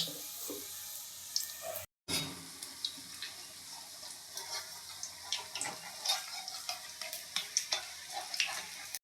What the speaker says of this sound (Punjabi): ਸਾਈਡ ਤੋਂ ਚੰਗੀ ਤਰ੍ਹਾਂ ਪਕਾਣਾ ਹੈ ਜਦੋਂ ਇੱਕ ਸਾਈਡ ਤੋਂ ਤੁਹਾਨੂੰ ਲੱਗੇ ਕਿ ਪੱਕ ਗਏ ਆ ਫਿਰ ਆਪਾਂ ਇਹਨਾਂ ਨੂੰ ਪਲਟੂਗੇ